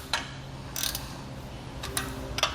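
Bolts being tightened on a tongue-mounted crossbar for a Malone MicroSport trailer, a few quick clicking ratchet bursts spaced apart, close and fairly quiet, with no voices.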